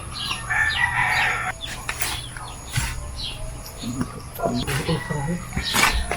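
In a vegetable garden, a rooster crows while chickens cluck and birds chirp nearby, all under someone talking steadily in a Visayan language.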